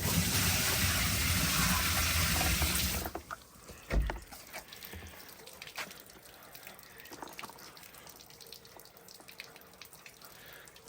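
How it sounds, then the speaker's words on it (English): Water from a bucket is poured onto the floor of a Kawasaki Ridge with lower door trim installed, giving a loud rushing splash for about three seconds, then quieter trickling and dripping. "Let's see what happens when we pour it on the floor,"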